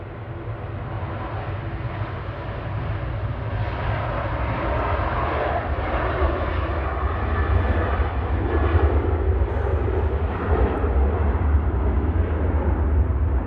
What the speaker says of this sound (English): Next departure, Ryanair 561 to Dublin.